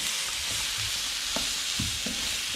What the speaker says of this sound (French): on a la pomme, le navet et l'oignon. On va faire revenir ça 3 à 4 minutes.